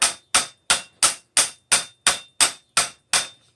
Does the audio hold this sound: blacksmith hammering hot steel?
yes